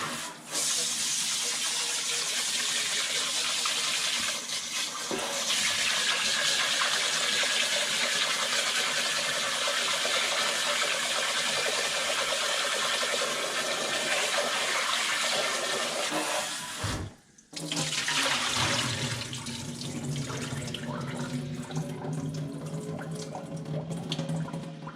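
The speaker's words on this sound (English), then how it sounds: "wash your rice until that liquid is clear." Tap water runs steadily into a sink as rice is rinsed, a constant broadband rush with a brief cutoff partway through before the flow resumes alone.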